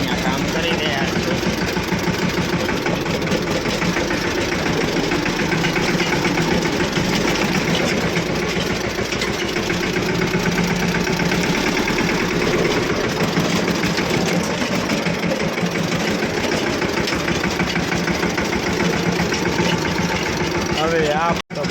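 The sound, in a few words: tractor engine running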